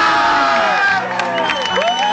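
A crowd at the Coca-Cola Village 2010 event cheers and shouts loudly and close, a dense burst of excited voices with rising whoops.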